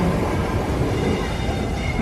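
Train carriages roll past in Whitby with a continuous, close, heavy rumble and rushing noise that holds steady for the whole stretch, and no voices.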